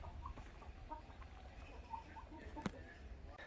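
Chickens clucking on a farm in Subang, soft and somewhat distant, with scattered short clucks over a steady low background murmur.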